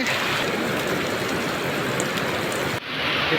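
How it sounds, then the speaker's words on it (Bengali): Heavy rain pours in a steady, dense hiss that fills the whole stretch, loud and close, with no voices. "দেখতে পাচ্ছেন অনেক বৃষ্টি হচ্ছে"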